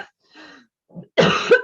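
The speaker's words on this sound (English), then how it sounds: "I'll quickly mute and cough" A single harsh cough from an adult, close and loud, follows a couple of soft throat sounds and breaths.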